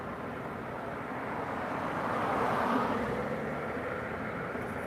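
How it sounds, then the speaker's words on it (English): Car tires and engines roar past in a continuous, loud wash of traffic that swells slightly midway, with no talking. "The sounds of the tires and the cars, so loud."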